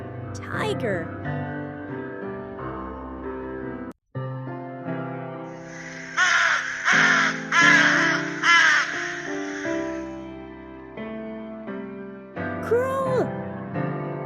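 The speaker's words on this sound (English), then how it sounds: "Crow." A crow cawing in a run of several loud, harsh calls in quick succession, standing out over light background music.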